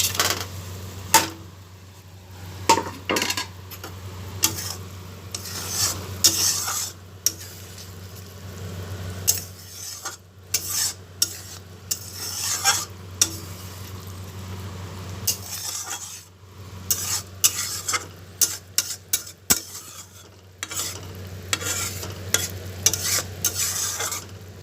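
Egg mustard curry (dim sorshe) with green chillies simmering in a pan, a spoon scraping and stirring in irregular bursts over a soft, constant bubbling sizzle, close up with no talking.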